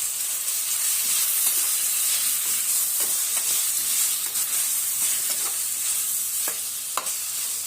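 Tomato chutney seasoned with salt sizzles steadily in a hot pan as a spoon stirs it, soft scraping taps recurring over a constant close frying hiss.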